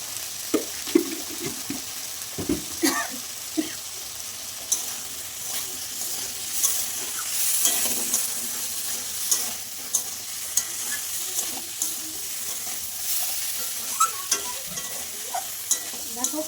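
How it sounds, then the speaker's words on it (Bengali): A vegetarian curry of potato and elephant foot yam sizzles steadily in a pan while a spatula stirs and scrapes it in close, repeated strokes. "কষানো হয়ে গেছে"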